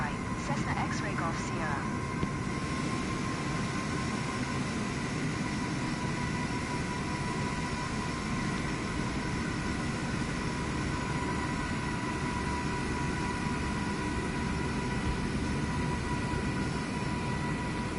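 A Cessna light aircraft in Microsoft Flight Simulator 2024 drones steadily at full power on runway 05 right for takeoff, a continuous loud engine and propeller hum with a few clicks at the start.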